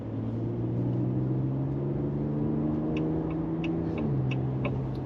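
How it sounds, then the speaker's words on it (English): A 2026 Toyota Tundra pickup on mud or all-terrain tires drives along with a steady, droning tire and road hum. The tone dips slightly near the end, and a few faint ticks occur partway through. "I hear on the passenger it's the tires because they're more like mud tires or all terrains"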